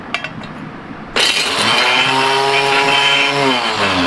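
A rock grinder starts up and crushes pieces of gold ore, a sudden loud mechanical roar with a rising whine that keeps running steadily after a few light knocks at the start.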